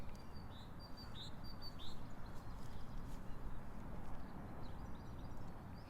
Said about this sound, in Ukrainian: Послухайте, як тут тихо і як гарно співають птахи.